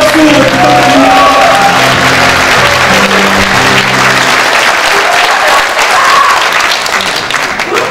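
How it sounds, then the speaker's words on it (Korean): Loud audience applause fills a party leadership convention hall, steady clapping from a large crowd with a few scattered shouts, continuing without pause and easing slightly toward the end. "김동철 비상대책위원장님께 다시 한번 뜨거운 박수 부탁드립니다"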